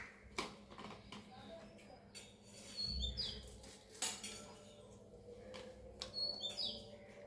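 Green chilies sliced with a knife, soft sharp taps and clicks at irregular intervals, faint and close, with light chirps and kitchen clatter in the background.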